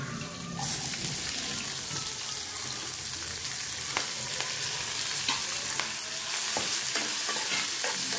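Onion, green chili and curry leaves fry in a pan over low flame with black gram dal while raw papaya curry is being made, giving a continuous sizzle with occasional stirring scrapes up close.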